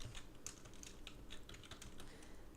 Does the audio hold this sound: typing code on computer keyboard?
yes